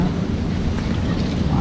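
Strong wind buffets the microphone at sea on a fishing boat during a rainy outing with a lift net, a steady dense roar that fills the whole short stretch.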